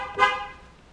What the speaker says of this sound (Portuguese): Olha a buzininha aqui, ó.